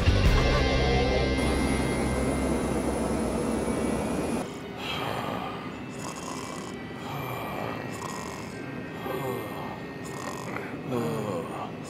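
A cartoon airplane roars with a loud, steady engine drone in a soccer-themed animated show, continuous throughout with shifting pitch and rumbling texture, no speech over it.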